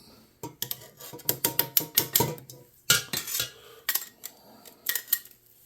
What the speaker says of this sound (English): we've drained our potatoes, and I've got a potato ricer here. We just pop the potatoes in.